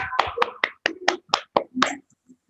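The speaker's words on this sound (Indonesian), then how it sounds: "Beri tepuk tangan untuk Sabita" A small group claps briefly for a student presenter in a class session, about eight distinct sharp claps in an uneven rhythm, close and fairly quiet, fading out after two seconds.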